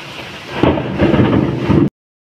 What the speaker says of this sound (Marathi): बापरे किती पाऊस झाला ना.